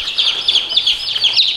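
Many chicks in a farmyard pen peep and chirp continuously, a dense, high twittering chorus of overlapping calls close by, with no voices.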